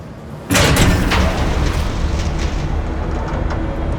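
A train arrives in Batman: The Telltale Series with a sudden loud, heavy onset, then a sustained rumbling roar with clanking metal that fills the rest of the clip, close and dominant.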